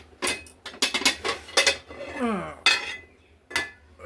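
A lid coming off a pot of cabbage curry made with chana dal, giving a series of sharp metallic clanks and clinks of metal cookware, close and fairly loud, in separate bursts with short pauses between them.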